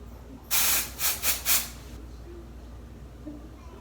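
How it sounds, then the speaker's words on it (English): An aerosol can of black hair spray sprays in one long hiss followed by three short bursts, loud and close, then quiet room noise. "I use my black spray."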